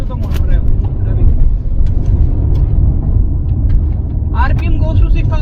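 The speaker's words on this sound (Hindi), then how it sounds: "Listen to the motor revving." A Tata Punch engine revs loudly and roughly while driving over a bumpy road with the tailgate open, a dense rumble close by with rattles on top.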